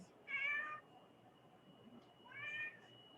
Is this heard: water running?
no